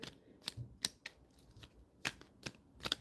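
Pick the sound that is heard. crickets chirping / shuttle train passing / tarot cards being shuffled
tarot cards being shuffled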